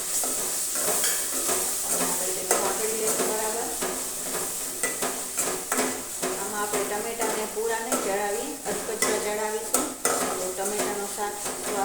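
Chopped tomatoes and chillies dropped into a hot tempering for a brinjal sabzi, sizzling steadily while a spoon clatters and scrapes repeatedly against the pot, with a voice talking over the cooking.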